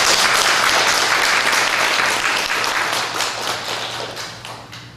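Loud applause from a large church congregation, dense steady clapping that gradually fades toward the end.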